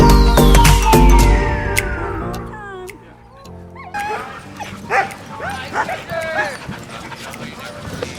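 A team of sled dogs barks, yips and whimpers in a loud, overlapping chorus close by during a dog-sledding ride, after a fading tone at the start.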